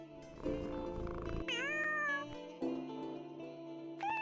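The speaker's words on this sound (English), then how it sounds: "we got a cat trapped in the door" A cat in an online escape room game meows several times at close range in drawn-out, wavering calls, with some electronic tones between them.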